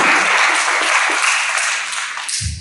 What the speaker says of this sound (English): One round of applause for her Ganga, right?